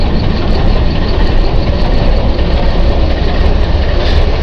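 Decorated Green Line Express locomotive idling at Margalla railway station, a loud, steady, low heavy engine rumble that holds constant throughout with no break.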